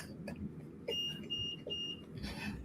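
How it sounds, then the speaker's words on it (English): A household alarm beeps as a medicine reminder, sounding a few short, faint, repeated electronic tones over a steady room background with no talking. "What was that beep? Was that in my house?"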